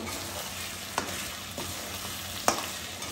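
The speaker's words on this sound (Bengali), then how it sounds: "নাড়তে থাকবো।" Mutton kosha frying with pepper and garam masala in a pan, stirred in a few scraping strokes over a constant close sizzle, with sharp spoon knocks standing out.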